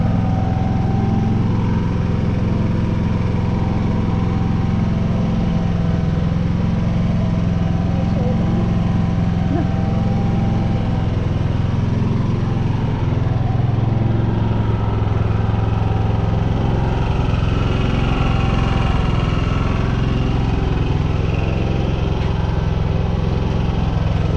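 Champion XP9000IH generator engine idling nearby, a loud, even drone that holds steady for the whole stretch without any change in pitch.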